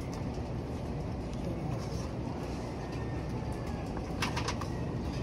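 Racing pigeons around a home loft in light drizzle, with soft cooing and brief wing flaps against a steady background hiss, a short burst of flapping near the end.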